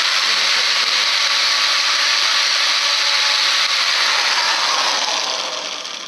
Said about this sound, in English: we're going to have to take the drill to it again, looks like